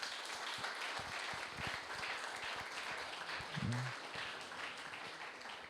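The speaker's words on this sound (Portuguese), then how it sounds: "Aplauda o Senhor Jesus por isso" Congregation applauding during a church worship service, a dense, steady wash of clapping that fills the room at moderate volume, with a brief voice-like murmur partway through.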